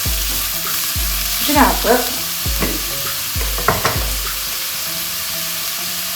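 Grated onion sizzling in a hot pan under a steady frying hiss, with a spoon scraping and stirring in repeated strokes; a voice briefly speaks over it.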